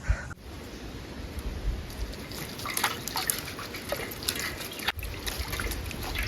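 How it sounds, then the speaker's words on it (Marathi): Water trickling and splashing as vegetables, cauliflower and tomatoes, are washed at a night forest campsite, a steady close pour with small irregular splashes and a couple of handling knocks. "सगळ्यात आधी आहे ना मस्त भाजी धुवून घेऊया पटापट"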